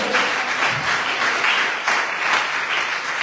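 A congregation at a women's worship evening breaks into warm, sustained applause, many hands clapping together in a continuous wash that swells and ebbs slightly without stopping.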